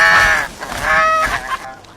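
Snow geese honk in a close, loud series of nasal calls, several overlapping cries in quick succession before fading near the end, with no talking over them.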